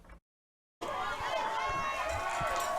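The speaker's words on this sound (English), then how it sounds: "You hear the crowd in the background" A high school football crowd at a quarterfinal game murmurs and chatters from the visitor stands, a steady, moderately distant wash of voices after a short silent break.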